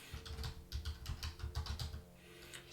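Someone types on a computer keyboard in a quiet room, a quick uneven run of soft close keystrokes that pauses briefly, then picks up again, with no talking.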